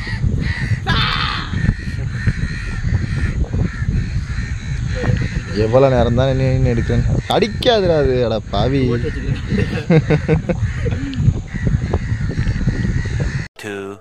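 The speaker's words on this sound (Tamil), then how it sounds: "வந்து இறுக்கி வச்சு பெரிய காக்கா தான்." A large crow caught in a fishing net gives loud, harsh repeated caws in bursts near the middle, among several people talking excitedly close by.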